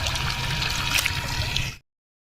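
Clear water trickles and flows in a steady stream at a picnic spot in Deodhar, Odisha, a close, even splashing wash that stops abruptly near the end.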